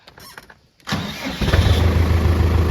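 A tractor engine turns over and catches with a loud burst, then settles into a steady, close, rumbling idle.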